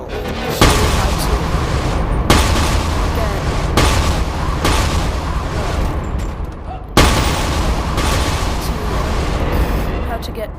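Loud booming shots from the Windstaff in a Call of Duty zombies game go off at intervals of about one to three seconds, each a sharp blast trailing into dense chaotic game noise.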